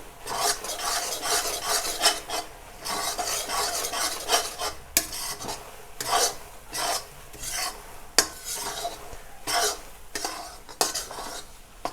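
Flour cooked with milk is stirred steadily in a pan over a low gas flame while making magas laddu, giving a continuous close scraping and rasping of spoon against metal with a slight sizzle, in uneven strokes and with no talk.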